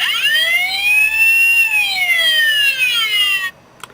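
A toy fire engine's electronic siren sound effect wails in a long rising and falling sweep, loud and close, then cuts off abruptly, followed by a small click.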